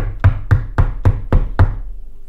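Six firm, evenly spaced knocks on a door, as in a storybook wolf knocking at grandmother's house, land in a quick steady rhythm, close and loud, with a short quiet tail after the last.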